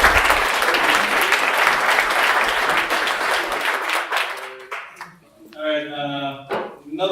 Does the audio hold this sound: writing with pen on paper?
no